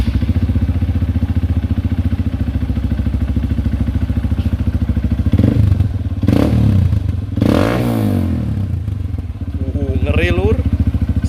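A Honda CRF150L motorcycle fitted with an original Norifumi Rocket 4 exhaust idles with a loud, close, throbbing rumble, then gives several sharp throttle blips before settling back to idle.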